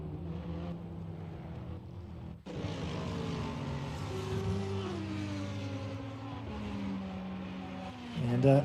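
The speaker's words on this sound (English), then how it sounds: "let's just give some of these cars a bit of a listen" Race cars in an online racing video game at the Hungaroring roar past, engine notes rising and shifting through gears, one car sweeping by after another at steady loudness with a voice faintly underneath.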